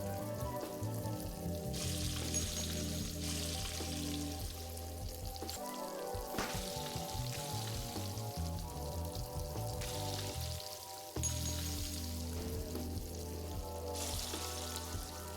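Eggs sizzling and frying in a pan in the video game Arctic Eggs, a steady crackling hiss that runs throughout over a dense backdrop of game music, with brief dips around six and eleven seconds.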